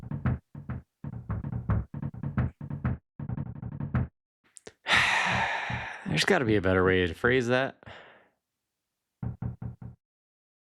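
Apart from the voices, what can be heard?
knocking at the door in the video game Earthbound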